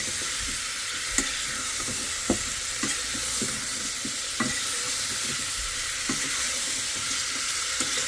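Potato curry frying in a pan, a steady close sizzle with scattered soft clicks and scrapes of stirring throughout.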